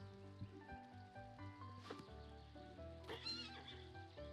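A horse named Clip Clop whinnies faintly a couple of times in the distance, the neighs rising briefly over steady low tonal background sound.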